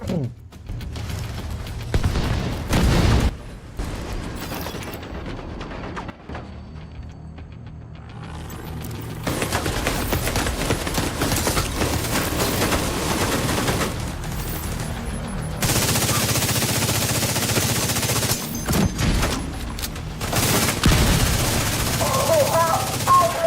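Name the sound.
gunfire shooting plates on MTV in The Division 2 video game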